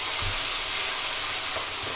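Spices and tomatoes frying in a pan with a splash of water, a steady loud close sizzle throughout with faint stirring scrapes underneath.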